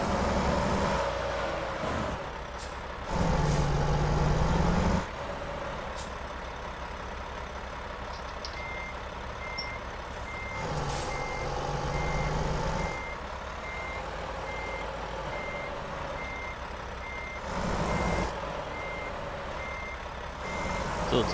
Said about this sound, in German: ich muss die Karre rückwärts schieben